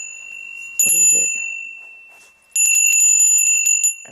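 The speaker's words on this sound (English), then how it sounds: "Oh, there's a bell." A small brass bell rings clearly twice, each strike leaving a bright sustained shimmer that fades, with a brief voice between the rings.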